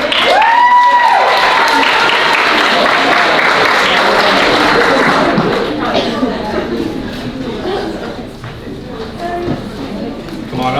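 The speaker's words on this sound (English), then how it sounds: "Give a round of applause, guys." An audience at a Vietnamese dinner event at Juniata College claps for volunteers coming on stage. The loud, busy applause mixes with crowd noise and nearby talking, then thins toward the end.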